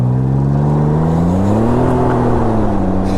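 A Can-Am Ryker three-wheeled motorcycle accelerates hard in rally mode, its loud engine note climbing and then easing, heard up close and alone.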